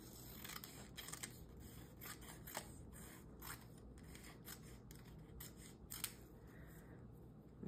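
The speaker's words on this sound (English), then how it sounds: "I do have these words that I had harvested, and I think I'll cut them out." Scissors snip out paper words for a glue book, making a series of faint, close crisp cuts spaced irregularly over a steady low background hiss.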